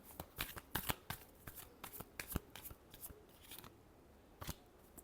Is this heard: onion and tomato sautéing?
no